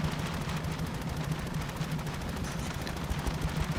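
Gunfire in the video game Far Cry 6: a steady rattle of rapid automatic shots, evenly spaced and continuous, moderately loud with no speech.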